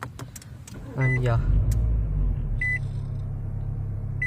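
A 2014 Nissan Altima is started with the push button: a brief starter whir, then the engine catches into a steady low idle rumble that continues to the end. A person speaks briefly just before.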